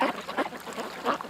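A few close ducks give short, repeated quacks outdoors near water, three or four raspy bursts with brief gaps and no talking.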